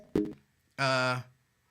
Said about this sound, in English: oh my goodness, this phone's ringing.